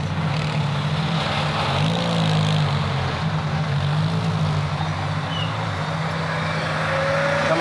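Steady traffic noise from passing cars fills the whole stretch, a continuous mid-level engine and tyre rumble with shifting low hum, no talk over it.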